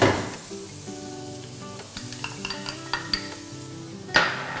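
Onion and garlic fry in hot olive oil in a pan, a steady close sizzle with light clinks of a utensil stirring against the pan, and a louder burst of sizzling near the end.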